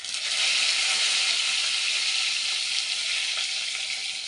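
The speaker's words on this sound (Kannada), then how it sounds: "ಇದೆಲ್ಲ ಚೆನ್ನಾಗಿ ಫ್ರೈ ಆಗಿದೆ." Mustard seeds, cumin, curry leaves and green chillies frying in hot oil for an onion saagu, a loud continuous crackling sizzle heard up close with no one speaking.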